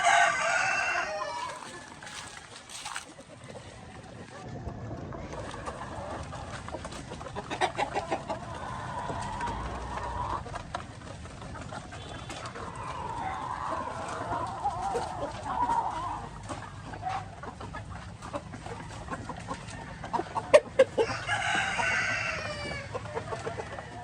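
Chickens cluck and chatter continuously at moderate distance while feeding, with a rooster-like call rising near the end over a soft farmyard background.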